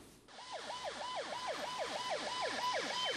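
An ambulance siren wails close by in a stalled traffic jam on the Adjamé-Indénié road in Abidjan, its rapid rising yelp repeating steadily over low engine hum.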